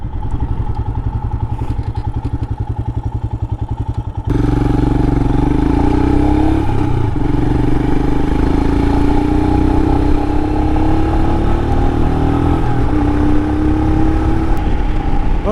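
A 2022 Royal Enfield Himalayan motorcycle rides a highway near St. George and Hurricane. A brief muffled stretch gives way to a loud, close engine drone that rises in pitch as it accelerates, mixed with steady wind and road noise.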